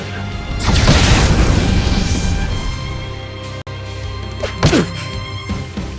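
Fire spell cast during a battle in Octopath Traveler II, a loud whooshing burst with heavy low rumble that sustains and fades, followed by a few sharper impact hits.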